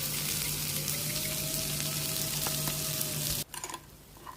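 Sweet corn frying in a pan with spices, giving a steady close sizzle and crackle with faint stirring, until the frying cuts off abruptly near the end, leaving quieter clinks.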